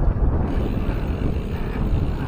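Strong wind among container vans in Navotas buffets the microphone in a steady low roar throughout, with no voices.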